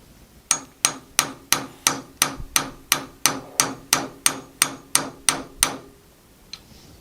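A hammer repeatedly strikes a staked front sight on a 1991 pistol held in a vise: about fifteen sharp, evenly spaced metallic blows, loud and close, with no talking.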